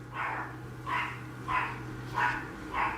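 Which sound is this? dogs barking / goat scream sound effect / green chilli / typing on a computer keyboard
dogs barking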